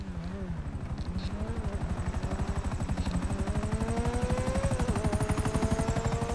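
A helicopter in the video game GTA 5 thrums with a fast, regular rotor chop and a wavering engine whine that rises slightly in pitch, steady and fairly close for the whole stretch.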